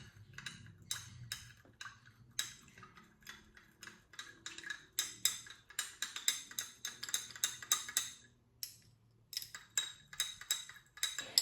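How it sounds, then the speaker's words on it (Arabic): A utensil stirs rose and rose gold shimmer body oil in a glass beaker, producing rapid light clinks and ticking taps against the glass, irregular bursts of close, delicate chiming with brief pauses. "هقلب بقى شويه كده."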